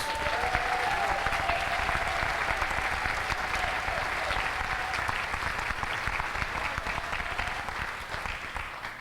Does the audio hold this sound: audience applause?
yes